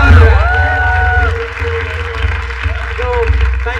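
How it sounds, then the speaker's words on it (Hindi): An audience applauds and cheers loudly in a live show setting, with voices talking over the clapping and crowd noise. "तो एक बार जोरदार तालियां बजाओ।"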